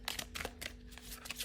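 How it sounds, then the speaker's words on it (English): Tarot cards are shuffled in quick riffling bursts, soft crisp flutters and light taps close by and quiet, with no talking. "when I shuffle, sometimes I close my eyes"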